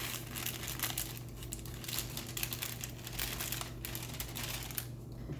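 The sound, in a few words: chocolate cake mix dumped from its bag into a bowl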